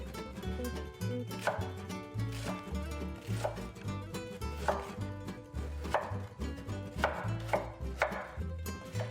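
Steady rhythmic knife strokes dicing an onion into chunky pieces on a cutting board, close and clear with even repeated thuds and no talking.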